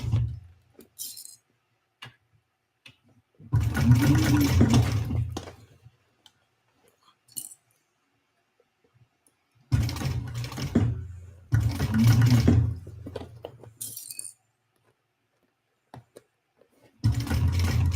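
A home sewing machine works on a Victory Bowler Bag in short, moderately loud bursts of stitching, separated by quiet gaps with small clicks and clinks of handling.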